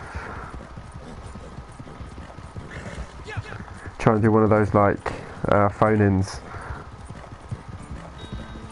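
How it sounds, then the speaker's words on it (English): A horse in Red Dead Redemption 2 clip-clops along in a steady rhythm of hoofbeats throughout, with someone talking over it partway through. "This horse is suffering a bit. It's making some weird noises, isn't he?"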